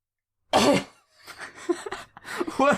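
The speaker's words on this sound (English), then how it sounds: "You're like coughing up a hairball?" A single sharp cough bursts out, followed by a rough, breathy throat-clearing and another harsh cough close to the mic.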